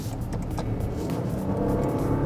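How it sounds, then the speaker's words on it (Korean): A Maserati Levante engine in normal mode revs in the open, a mid-pitched car engine rising with a couple of throttle blips before settling into a fuller, steady roar near the car. "악셀링을 한번 해보겠습니다."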